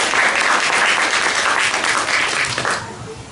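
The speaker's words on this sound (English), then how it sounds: "And one more round of applause for the people who put their lives into public service." An audience at a Unity Sunday gathering in Clark County, Washington applauds public servants, a steady wash of clapping that holds strong before thinning and fading in the final half second.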